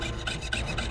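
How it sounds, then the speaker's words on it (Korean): A hand saw cuts a sword prop made with a brass plate glued in place, giving close, steady back-and-forth rasping strokes, about four quick passes in under a second, with no voices. "톱질해주겠습니다."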